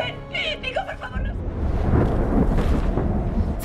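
Deep rolling thunder from a storm swells after a brief moment of voices and a guitar-like tone, then rumbles on, loud and sustained, to the end.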